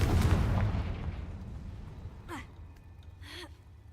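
A Confringo blast spell bursts with a loud, low rumbling boom that fades across the first seconds in Hogwarts Legacy, followed by two short breathy vocal sounds; no words are spoken.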